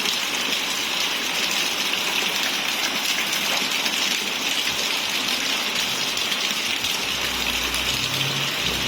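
Heavy rain pours steadily onto potted cactus plants outdoors during the rainy season, a dense, loud and continuous hiss and patter with no voices.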